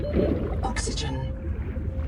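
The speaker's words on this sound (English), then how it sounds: "I really don't like the sounds of that roar, or call, or whatever it is." A deep, drawn-out creature roar or call rumbles through an underwater scene in the Subnautica 2 video game, swelling and fading over about two seconds amid watery ambience.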